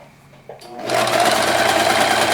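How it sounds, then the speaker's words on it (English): A sewing machine stitches down a quilt strip for a foundation paper pieced mug cozy: a few faint handling knocks, then the motor starts and runs in a loud, steady close whir. "Just sew down the strip."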